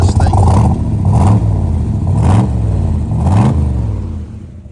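The 427 engine of a 1966 Chevrolet Corvette revs loudly up close in three or four rising and falling surges over a deep, rumbling idle.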